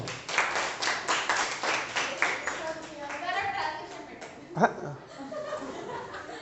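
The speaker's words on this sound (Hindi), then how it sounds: "बजा दो तालियां इसके लिए।" A short burst of rhythmic hand clapping with chuckles and voices mixed in, fading into chatter, with one sharp sound near the end.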